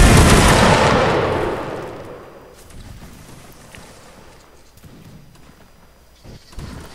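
A musket volley from an infantry line in Mount and Blade: Napoleonic Wars: one loud, broad crack at the start that rolls away into a long fading rumble, with faint battlefield noise after.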